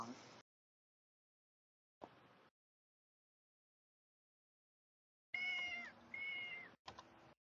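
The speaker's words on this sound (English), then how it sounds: "Sorry about the cat." A house cat meows indoors during an online workshop, a few short separate calls spaced apart followed by a longer drawn-out meow and a final brief one, fairly faint and heard alone.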